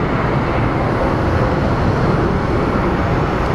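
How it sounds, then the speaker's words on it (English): A Boeing 737 MAX departs Phoenix Sky Harbor airport, its jet engines producing a steady, loud, broadband roar that holds evenly throughout without talk. "And we have a 737 MAX departing for Denver."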